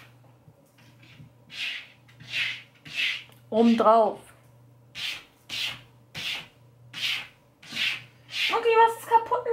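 A cat scratches and rubs around inside something, giving a series of rhythmic dry rasping strokes, close and fairly quiet, with a brief spoken phrase partway through.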